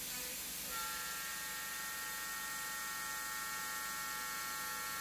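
A CNC machine's automatic-toolchanger spindle mills steel, taking a full one-millimetre cut, giving a steady, fairly quiet mechanical whine with thin high tones held over constant broadband noise throughout.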